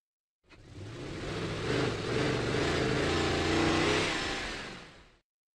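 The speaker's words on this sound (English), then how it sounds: "Monster truck." A monster truck engine from a kids' video game roars and revs up, a loud, steady throaty growl that swells and holds for several seconds before cutting off, with no voices.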